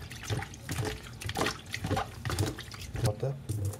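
Tap water runs into a bowl of salted raw prawns being washed for har gow dumplings, a steady splashing stream under continuous close talk.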